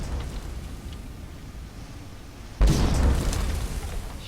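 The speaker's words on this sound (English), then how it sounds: "Really using those bombs" A bomb goes off in Zelda: Relics of Hyrule inside a forgotten cavern: a low, quiet ambience, then a single sudden loud blast whose rumble lingers and fades.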